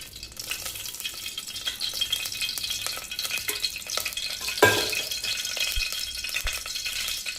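Oil sizzles in a pan heated for tempering, a steady crackling fry under scraping and rattling stirring, with a brief louder clatter midway.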